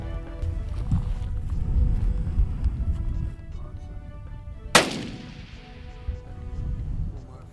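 During a hunt, a single sharp rifle shot cracks out over a rumbling outdoor background, its report trailing off into a fading echo, with no voices.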